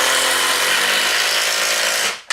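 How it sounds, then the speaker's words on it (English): A power drill bores into wooden wall struts during a plasterboard renovation, a loud, continuous grinding whine lasting about two seconds before cutting off abruptly. "It's not a very pleasant job because every time Bob drills"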